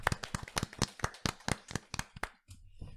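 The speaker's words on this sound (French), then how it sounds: "on va également applaudir Monsieur Guilherme" Clapping for Monsieur Guilherme on the final episode of a French show: sharp, slightly uneven claps close by from what sounds like a small group, stopping abruptly near the end and leaving a low hum.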